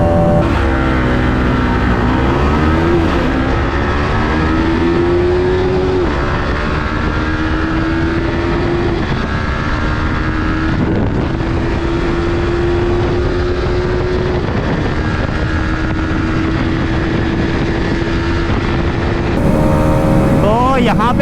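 Karizma XMR 210, R15M and RS200 motorcycles racing side by side in 5th gear, loud sustained engine whine with wind buffeting, pitch climbing steadily as revs build, and a rider talking over it.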